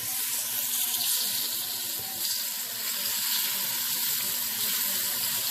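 Continuous hissing sizzle of beef browning in a frying pan, a steady broadband crackle with no talking.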